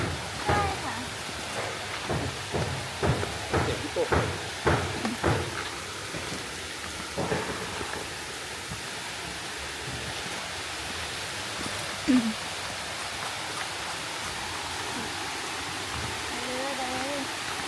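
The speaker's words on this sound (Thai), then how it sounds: "เสียงน้ำตก" Steady broadband rush of falling water from a waterfall near a riverside homestead in Thong Pha Phum, Thailand, with a few louder splashy bursts early on and faint voices beneath the constant roar.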